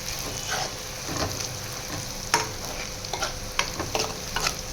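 Chicken pieces frying and browning in a pan for chicken curry, with a steady sizzle and occasional scraping stirs, close and fairly loud, no talking.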